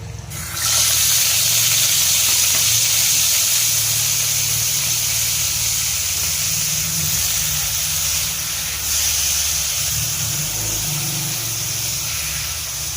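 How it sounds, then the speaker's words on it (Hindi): Vegetables fry in a spoonful of ghee for a chicken steak dish, giving a steady, loud hiss and crackle that holds nearly unchanged from start to finish with no voices. "इधर हमने 1 चम्मच डाल दिया है घी और इसमें हम सब्जियां फ्राई करेंगे"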